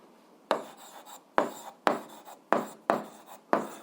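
A pen writes on paper during an algebra lesson, making six distinct scratchy strokes spaced about half a second apart, each close and crisp with short pauses between them.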